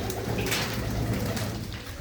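Several loft-kept pigeons coo continuously close by, their deep, burbling calls layered into a dense, steady murmur with no talk.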